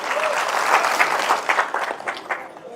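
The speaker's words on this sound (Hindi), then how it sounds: "एक बार ताली बजा के बताइए कि पूरे मन से सुनेंगे।" An audience at a poetry recital in a cultural club claps loudly and close, a dense burst of applause that thins into scattered individual claps as it tails off, with a faint voice underneath.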